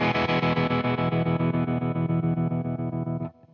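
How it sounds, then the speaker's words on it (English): Electric guitar played through a tremolo effect with the intensity turned up, a sustained chord pulsing in fast regular throbs for about three seconds before cutting off abruptly, loud and close with no voices. "you could really hear that tremolo working"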